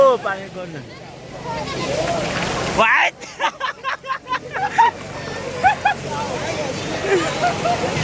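Big sea waves roll and break on the beach at Cox's Bazar, a broad washing roar with wind buffeting the microphone, while a person talks over it and crowd chatter drifts in the background.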